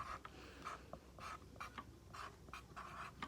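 Pencil or pen scratching on paper while a letter to Santa is written, soft irregular strokes in short bursts against a quiet, faint background, with no talk.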